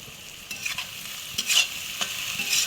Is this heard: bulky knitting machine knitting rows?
no